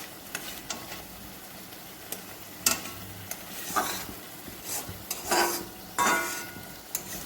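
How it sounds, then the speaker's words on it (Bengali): Spice masala for paneer frying with dried red chillies, a soft intermittent sizzle broken by sharp clinks and scrapes of a spoon against the pan, close and fairly quiet with no voices. "এবার ভালো করে মশলাটা পুরো ভাজতে হবে"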